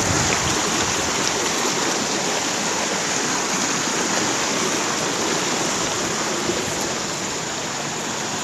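Steady, broadband rushing of a stream at the Da Mi nine-tier waterfall in Binh Thuan, a continuous close wash of flowing water with no pauses and no voices.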